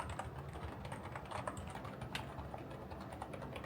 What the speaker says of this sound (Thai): เสียงพิมพ์